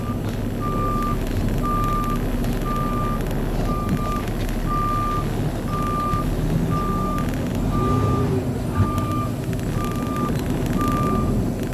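A truck's reversing alarm beeps at a steady, regular pace while the truck backs in, its engine rumbling close underneath throughout, no one talking.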